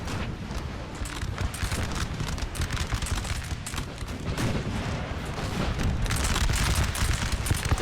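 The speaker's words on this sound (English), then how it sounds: "Nice artillery strike there." Artillery strikes and massed musket volleys from a Napoleon Total War battle, a dense continuous crackle of gunfire with heavy booms underneath, steady and loud throughout and swelling slightly toward the end.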